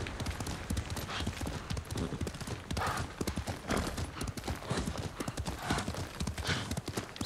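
Hoofbeats of a horse in the Ghost of Tsushima video game, a steady rhythmic clip-clop of a galloping or trotting mount, loud and close throughout, with a faint voice now and then.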